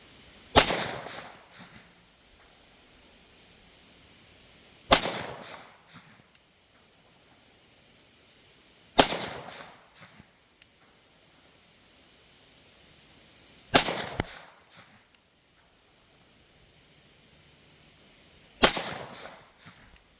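Single gunshots from a Sig Sauer M17 pistol with a 4.7-inch barrel, five sharp, loud reports spaced about five seconds apart, each followed by a short echoing decay, with quiet between shots.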